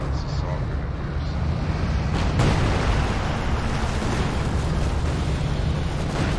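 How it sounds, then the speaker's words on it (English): Grenade blasts in a World War II strategy game, including a soldier's grenade, crash out as loud, dense booming bursts over continuous battle noise, with a commentator speaking throughout. "He managed to force Pancake into a mass retreat with 1 oversoldat grenade."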